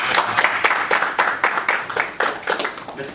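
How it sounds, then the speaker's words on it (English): Round of applause for Andy McIntyre, a room of people clapping briskly and loudly, with sharp irregular claps overlapping in a continuous burst from start to finish. "Give him a round of applause."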